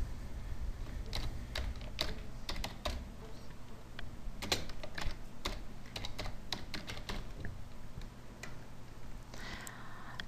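Fast, irregular keystrokes clatter on a computer keyboard, close and fairly quiet, with short bursts and brief pauses over a low steady background hum.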